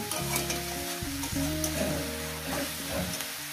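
Dried fish and onions frying in a pan at a riverside cooking spot give a steady, close sizzle that runs throughout, with a stirring scrape over it and background music.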